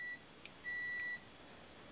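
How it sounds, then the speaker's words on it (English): Two clear electronic beeps, each a steady high tone, the first brief and the second longer, sound against quiet room hiss with no talking. "What is that beeping sound"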